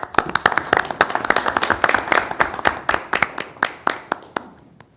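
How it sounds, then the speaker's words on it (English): Attendees at a technology advisory committee meeting applaud together, a close burst of sharp individual claps that fades and thins out over the last second. "So I just want to clap to that"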